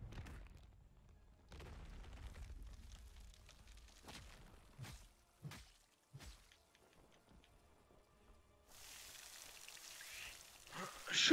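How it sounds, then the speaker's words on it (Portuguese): Acid rain falling in the video game Pascal's Wager, a steady patter running under the game's ambience with several heavy thumps and booms early on and a brighter, louder hiss of rain toward the end. "Chuva do ácido."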